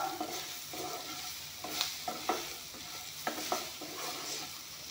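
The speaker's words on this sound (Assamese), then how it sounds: "এয়া চাওক, বেঙেনাখিনি অলপমান ভাজি ল'লোঁ" Eggplant frying over a low flame in a pan with green chillies makes a soft sizzle punctuated by several sharp scrapes and clacks of a spatula, close and fairly quiet, with no voices.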